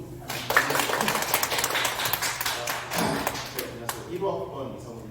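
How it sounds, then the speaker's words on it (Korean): Applause from an audience greeting alumni association officers at a school event, a dense patter of clapping that carries steadily and fades near the end, with voices mixed in. "박수."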